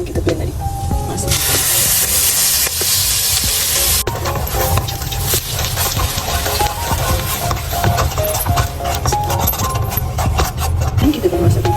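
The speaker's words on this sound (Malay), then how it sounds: "Minyak yang sama tadi kita akan goreng, tumis kita punya bahan yang kita blend tadi." Blended spice paste hits hot oil in a wok for fried noodles, giving a loud, steady sizzle and hiss that keeps going with small crackles throughout.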